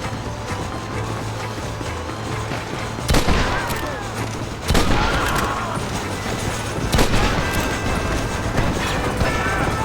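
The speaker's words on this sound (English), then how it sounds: "Open fire!" Gunfire in the Red Dead Redemption video game: a busy rattle of mechanical clicks and shots with several louder blasts landing a second or two apart, over a constant background din and occasional shouting voices.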